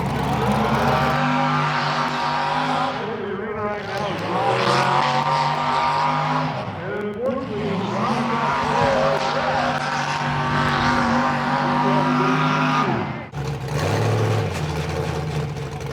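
A demolition derby car's engine runs loud and close for about sixteen seconds, revving up and down repeatedly with a rough, rising and falling roar, a brief dip near the end, and no talk over it.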